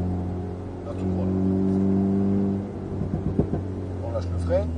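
Alpine sports car revving and accelerating on a circuit at the Alès mechanics centre, a steady loud engine drone rising in pitch, with a person talking over it in the second half.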